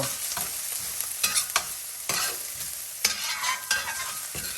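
Softened onions sizzle in a pan while being stirred, with irregular scraping bursts over a steady frying hiss, close and fairly loud, with no speech.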